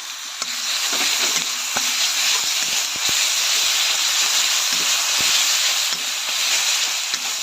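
Ginger-garlic and green chili paste sizzles steadily with reddened onions in a pan, a continuous loud hiss broken by occasional scrapes and clicks of stirring, with no voices.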